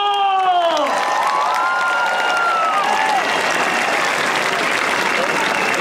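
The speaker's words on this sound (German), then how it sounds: "Also auch nochmal einen Applaus. an Anselmo!" Large demonstration crowd filling a square in Cologne at a March 2019 Article 13 protest, applauding and cheering loudly and continuously, with whoops and shouted voices rising over the dense clapping.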